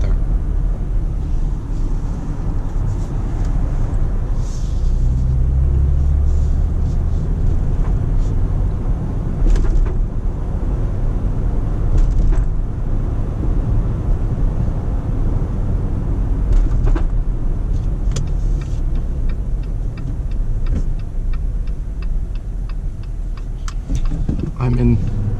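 A manual-transmission Jeep Gladiator driving, its engine and road noise forming a constant loud rumble inside the cab, with a person talking over it throughout.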